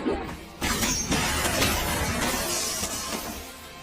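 A bead curtain shatters in an anime fight scene, a dense burst of crashing, scattering fragments that starts abruptly and keeps rattling loudly for several seconds with no voices.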